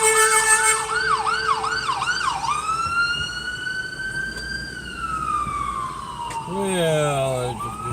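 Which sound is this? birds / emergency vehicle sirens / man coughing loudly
emergency vehicle sirens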